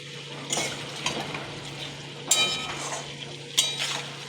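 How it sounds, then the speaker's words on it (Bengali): Pointed gourd (potol) pieces fry in a pan for a potato-potol curry, a faint steady sizzle beneath a few sharp metallic clinks and scrapes of a spatula stirring against the pan. "পটলটাকে প্রথমে ভেজে নিয়ে"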